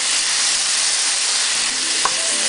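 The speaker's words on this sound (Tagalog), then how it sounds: "Haluin nyo lang ang haluin" Beef frying in a pan sizzles steadily and loudly throughout, with a few faint scraping clinks of a utensil stirring the meat near the end, and no voices.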